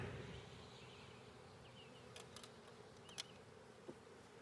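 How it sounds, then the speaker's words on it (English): A steady, faint buzz of a honey bee swarm humming together, with a few brief sharper buzzes of individual bees passing close. "Decent little swarm of bees there though."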